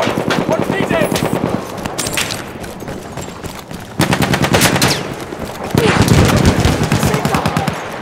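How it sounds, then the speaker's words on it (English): Loud, rapid machine gun bursts rattle on a Battlefield 1 battlefield at the River Somme, continuous and close, swelling in two heavier surges, with shouting voices and other gunfire mixed in. "Machine gun, over there!"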